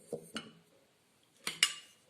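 Sugar and white pepper being mixed for Russian salad, a few sharp clinks of a utensil against a bowl, two close together then two more after a pause, quiet and close with no talking.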